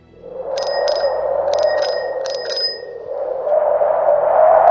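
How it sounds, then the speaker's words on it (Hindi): A bicycle bell rings three times in quick, evenly spaced bursts over a rushing, windy background in cold fog, growing louder toward the end. "वो घंटी बजाता है पर आवाज भी धुंध में खो जाती है।"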